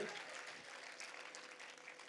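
An audience at a Tamil literary speech event claps in a steady, dense wash of applause, faint and somewhat distant, with no talking.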